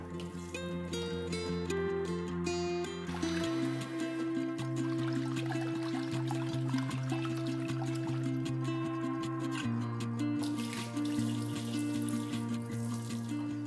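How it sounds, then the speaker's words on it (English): Music plays steadily throughout, with water running and trickling faintly underneath as rice is rinsed; no talking. "Rinse and drain the rice 2 to 3 times to get rid of the excess starch."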